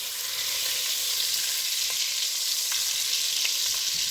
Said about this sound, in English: Here goes my margarine. So let my butter melt.